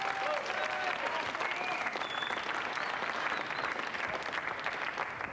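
A studio audience at a French comedy show claps and cheers in a dense, steady wave of applause that holds at an even level throughout, with a few faint voices mixed in.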